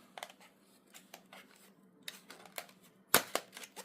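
A small, slightly battered parcel package being opened by hand, with a run of quick rustling and tearing scrapes and one sharp, louder snap near the end, close and fairly quiet.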